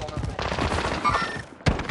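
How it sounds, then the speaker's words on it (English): Rapid gunfire in a first-person shooter video game, a fast clattering burst of shots followed by a brief lull and a single loud crack near the end, with talking mixed in. "I'm taking fire!"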